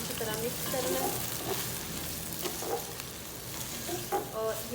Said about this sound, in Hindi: और इस प्याज़ों को मैंने अच्छी तरह मिक्स करना है।